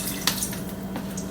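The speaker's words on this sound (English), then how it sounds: "I'm going to add a little bit of water" Water is poured into a pot holding chicken pieces, a short run of splashing and trickling with a couple of sharper splashes.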